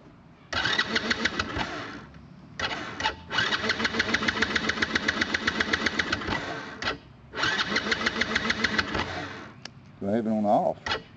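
A four-wheeler ATV's starter motor cranks repeatedly in several long whirring bursts with rhythmic chugging, the engine trying to catch, close and fairly loud, and a voice is heard briefly near the end.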